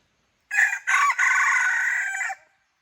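A decoy rooster in training gives a single loud, close crow of about two seconds. Two short opening notes lead into a long held call that fades at the end, with no talk over it.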